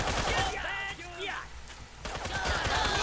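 Rapid gunfire from a battle in the strategy video game Tooth and Tail, a steady rattling volley of game shots running the whole time with a player shouting excitedly over it.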